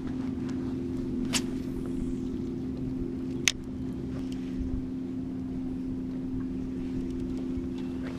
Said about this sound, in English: right now we're just kind of like driving really slow and trying to mark some fish